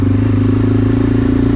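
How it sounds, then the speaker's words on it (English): A motorbike engine drones steadily while riding, a loud, close, unbroken low rumble with an even throb and no talking. "You could use the sound of this motorbike as your mantra"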